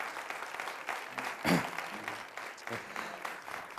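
An audience at an outdoor opera picnic event applauds steadily, the clapping holding at a moderate level with a brief louder burst near the middle and faint voices underneath.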